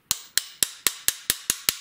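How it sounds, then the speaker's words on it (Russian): Sharp metallic taps ring out as a FAB Defense Vanguard polymer handguard is knocked into place on an AK rifle, eight crisp, evenly spaced knocks, close and loud. "Вот так немножко можно постучать. И в принципе все село на свое место."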